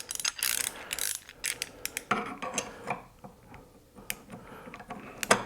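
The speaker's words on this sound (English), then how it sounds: "you'll feel the torque wrench click and you'll hear it click" Torque wrench ratcheting and clicking while tightening a Midwest Industries Gen 3 rifle handguard, a run of sharp mechanical clicks and ratchet pawl snaps, close and fairly loud, with no talking.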